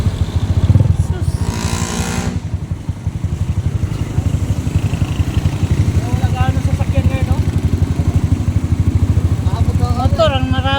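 Many motorcycles on a road at night, a loud continuous close engine rumble with revving passes, while people talk over it.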